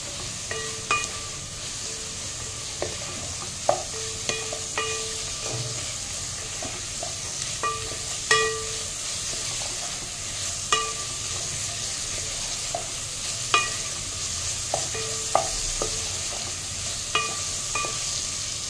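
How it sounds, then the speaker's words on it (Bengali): Rice and lentil khichuri mixture stirred in a pan for Bengali bhoger khichuri, with a steady frying sizzle and repeated scraping taps of a spoon against the pan, close and alone without talk. "আবারও এটা ভালো করে মিক্স করে নেব"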